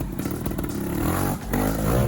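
Trial motorcycle climbing a rocky section at a trial event in Valdemanco, engine revving and surging loud and close with clattering and scraping as the rider positions the bike.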